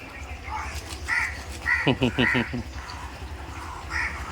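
A crow caws in a quick burst of four or five harsh, evenly spaced calls outdoors, fairly close and loud, with softer bird chirps and faint background noise around it.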